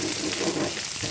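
Onions sizzling in hot oil in a pan, a steady bright crackle with faint bubbling, close and continuous with no voices.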